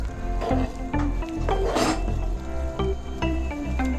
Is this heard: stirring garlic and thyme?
yes